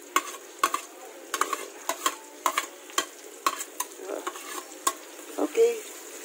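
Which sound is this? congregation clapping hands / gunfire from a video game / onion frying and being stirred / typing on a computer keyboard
onion frying and being stirred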